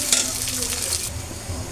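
Sliced onion and green chili frying in hot oil in a cooking pan, giving a brief, steady crackling sizzle close by with no talk.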